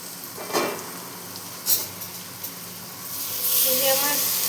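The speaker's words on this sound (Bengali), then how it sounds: "পেঁপের সাথে মশলাটাকে ভালো মতো কষাতে হবে।" Papaya and ground spice paste sautéing in a pan for a prawn and papaya dish, soft intermittent stirring scrapes over a quiet sizzle that grows louder and steadier toward the end.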